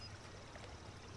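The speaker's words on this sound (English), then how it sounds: "It's a lovely waterfall." A waterfall in Zoo Tycoon 2 gives a steady, even rush of falling water, a soft continuous wash with no breaks, heard alone.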